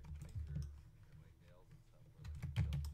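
Typing on a computer keyboard, a quick run of soft key clicks in short bursts, close by, with a person talking over it.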